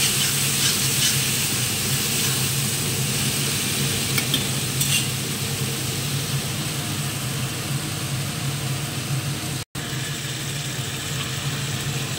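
Food fries in boiling oil while being stirred, a loud, continuous hiss and sizzle that barely changes, with one sharp momentary dropout near the end and no talking.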